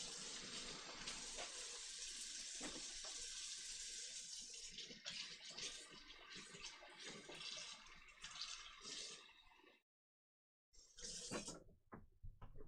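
Vinegar water pours in a steady, splashing stream for about ten seconds, with a bright hiss that cuts off into silence before a short final splash.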